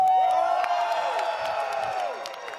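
A live esports crowd at the Galen Center in Los Angeles cheers and whoops during an Apex Legends playoff event, a loud, sustained roar of many voices with scattered claps and high shouts, steady across the whole moment.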